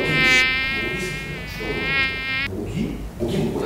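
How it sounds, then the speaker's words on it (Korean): A mosquito whines in a steady high-pitched buzz close to the microphone during a rainy-day prank at a comedian's house. The whine lasts about two and a half seconds, then stops, leaving background noise. "모기? 모기 뭐야?"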